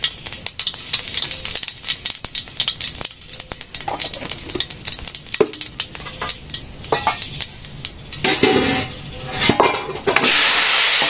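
Okra (dherosh bhaji) fries in a pan in a village kitchen with a continuous crackling sizzle. Scraping stirs and light utensil knocks on the pan break through it, and the hiss swells louder near the end.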